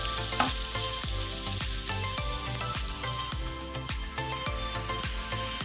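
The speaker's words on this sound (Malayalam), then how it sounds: "ഇനി നമുക്ക് ഇതിലേക്ക് തേങ്ങാപ്പാൽ വീട്ടി കൊടുക്കാം." Prawns and onion fried golden in a pan as coconut milk goes in, giving a steady loud sizzle and crackle with regular scraping stir strokes, no voices.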